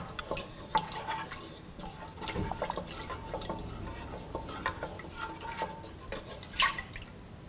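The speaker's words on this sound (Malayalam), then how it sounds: "ഇനി നമുക്ക് ബീഫ് വേവിച്ചതിൻ്റെ സ്റ്റോക്കിലോട്ട് നമ്മൾ എടുത്തു വച്ചിരിക്കുന്ന കോൺഫ്ലവർ ഇട്ട് മിക്സ് ചെയ്യുക." Cornflour being stirred into beef stock with a spoon for beef chili, giving soft liquid swirls and scrapes with occasional drips and clinks, fairly quiet and close, with no talking.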